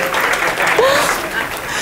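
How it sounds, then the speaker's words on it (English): Brief burst of audience applause at a seminar, steady clapping from a crowd with a whoop or laugh rising over it. "Round of applause for Nicole."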